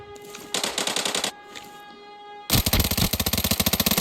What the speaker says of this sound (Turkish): Bak 5 seviye mermi sıkıyorum